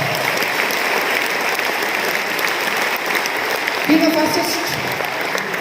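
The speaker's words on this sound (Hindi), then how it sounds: "युवराज के लिए तो ताली बजानी बनता है" A crowd applauds a young man named Yuvraj at a business anniversary gathering, steady dense clapping filling the room throughout, with a brief voice rising near the end.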